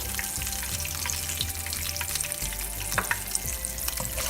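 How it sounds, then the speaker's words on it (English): Nigella seeds (kalonji), half a tablespoon, sizzle in hot oil in a pan over low heat while a Bengali fish curry is made: a steady, close frying hiss with small crackles and a few louder pops near the end, no voices. "In the same pan, I am adding nigella seeds, half tablespoon, or kalonji or kalojire."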